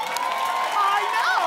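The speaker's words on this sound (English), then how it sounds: "Clap if you think Star Jones would be better." Talk-show studio audience clapping and cheering in a short burst, shouts and whoops rising over a continuous bed of applause, loud and close throughout.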